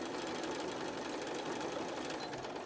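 A sewing machine back-stitching through a fabric face mask, a steady close whirring drone of continuous stitching that holds at even loudness with no talk.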